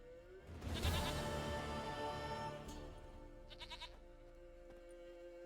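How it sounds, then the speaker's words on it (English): A goat bleats in The Witcher 3, a single drawn-out, wavering bleat up close that fades against quiet game ambience, followed by faint chiming sounds. "Goat of mine, dearest, sweetest goat."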